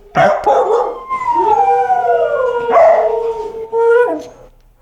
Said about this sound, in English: the dogs are actually singing songs.